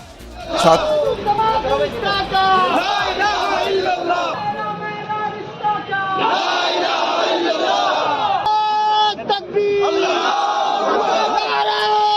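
Large crowd of students on the Aligarh Muslim University campus shouting Allahu Akbar religious slogans in unison after Friday prayers, loud, continuous and close, with repeated chant bursts and brief pauses.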